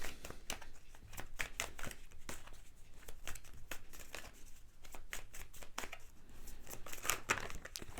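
Tarot cards are dealt onto a table in a quick, irregular series of close, crisp slaps and slides, with soft paper rustling between them and no talking.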